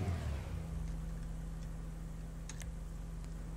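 Steady mid-pitched idle drone of an Invetero Coquette D10 sports car engine in GTA V, held at a constant hum with a slight rise at the start and a few faint clicks, no voices.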